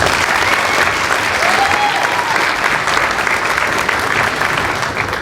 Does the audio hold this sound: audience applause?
yes